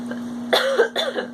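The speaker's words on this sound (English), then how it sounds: "I don't know why I'm coughing so much today." Two close, sharp coughs in quick succession, with a faint steady hum underneath.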